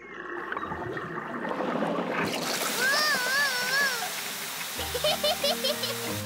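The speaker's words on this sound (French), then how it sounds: "Peppa tient le tuyau d'arrosage pendant que Papa Pig va ouvrir le robinet." Cartoon water gushes and splashes from a garden hose in a loud continuous spray, with a voice calling out over it and music-like tones entering near the end.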